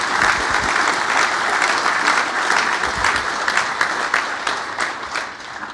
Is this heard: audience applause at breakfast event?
yes